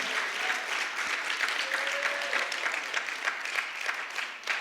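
An audience applauds a poet after a reading at a poetry event, with sustained, even clapping from a sizable crowd throughout and a faint voice briefly heard over it.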